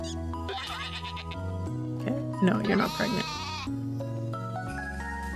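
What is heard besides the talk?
goat bleating in video game A Wonderful Life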